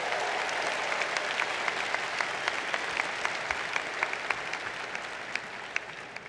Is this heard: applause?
yes